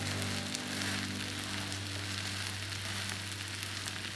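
A Korean zucchini pancake (hobak jeon) frying in a pan, with a dense, loud, continuous crackling sizzle close by and no pauses, alone without talk.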